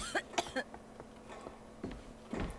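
A person coughs several times in short, harsh bursts, a throaty cluster at the start followed by a couple of further coughs spaced apart, close and moderately loud.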